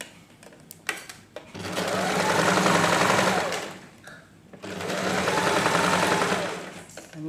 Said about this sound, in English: then I will sew the seam allowance